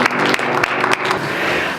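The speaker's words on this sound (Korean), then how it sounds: "이곳에 불러주신 하나님께 영광의 박수 올려드리겠습니다." Church congregation applauding in praise during a Korean worship service, a steady wash of many hands clapping that fills the room, loud and continuous before thinning out at the end.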